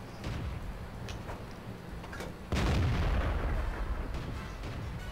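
Tank cannon fire in the World of Tanks video game: a heavy boom strikes midway and rumbles on as a low, sustained roar, with fainter thuds and crackles before and after.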